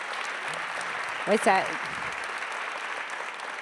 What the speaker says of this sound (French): ça méritait des applaudissements.